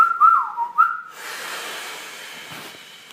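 A person whistles a short wavering tune, imitating a drow character at a tabletop role-playing game session, two bright phrases in the first second, then fading into soft breathy hiss.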